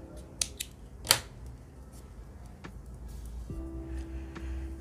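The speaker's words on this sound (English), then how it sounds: "and cut your yarn." Scissors snip through crochet yarn in a few sharp, close cuts early on, followed by quiet room tone with a faint steady hum.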